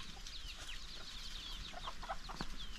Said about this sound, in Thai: มีไก่งวงมีไก่น้อยไก่ลาด